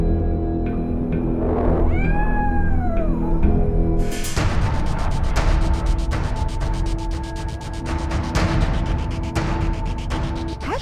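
A cat gives one clear, rising-and-falling meow up close, followed by louder broadband noise with a steady tone and scattered clicks.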